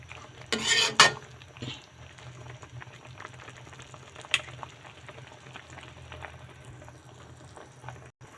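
Beef steak simmering in a pot while being stirred, with a brief clatter of utensil against pot near the start, then soft steady bubbling and occasional light scrapes.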